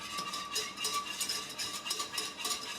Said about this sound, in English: I've been stirring like crazy.